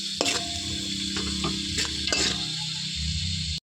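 Chillies and tomatoes sizzle steadily in a pan, with a few sharp clacks and scrapes of a spoon stirring through the frying, close and continuous, no voices over it.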